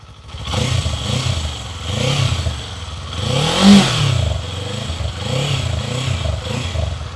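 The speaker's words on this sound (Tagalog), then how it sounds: "So, stock exhaust sound check muna tayo. So, ito yung sound profile niya." A Kawasaki Eliminator 450 SE motorcycle with its stock exhaust revs repeatedly, each throttle blip rising and falling in a steady rhythm, close and fairly loud with no talking.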